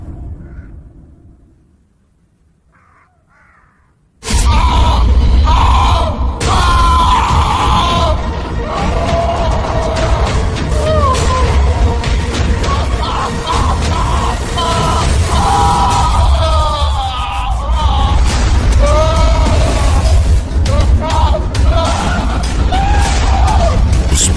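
In a Hindi horror story, a man screams and bellows loudly and almost without a break for about twenty seconds. The screams follow a short, near-silent lead-in and sound close and harsh.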